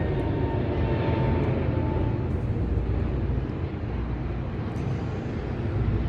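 Airplane passing overhead, a steady broad roaring drone that stays loud and unbroken throughout, with no talking over it.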